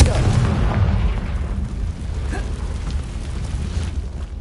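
A spell-cast explosion from a Harry Potter video game: a loud, booming blast that rolls into a sustained, rumbling low roar throughout.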